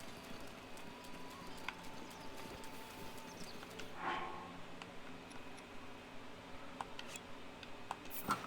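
Horse hooves clip-clop steadily in The Legend of Zelda: Breath of the Wild, a moderate-volume trot carrying through the whole stretch over a low ambient bed with faint bird chirps.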